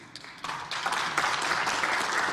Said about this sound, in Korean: 의원석에서 박수가 터져나옵니다.